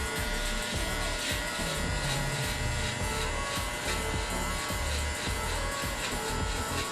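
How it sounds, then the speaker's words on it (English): Electric hair clipper buzzing steadily and close throughout a haircut, a continuous motor drone with slight variations as it moves through hair. "to the sound the clipper is making too"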